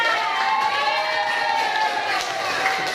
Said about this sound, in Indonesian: Beri tepuk tangan untuk kelompok kedua.